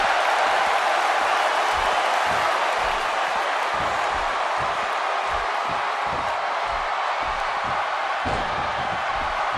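A wrestling arena crowd in the video game WWE 2K16 roars continuously, a dense, sustained cheer with scattered thumps and claps underneath.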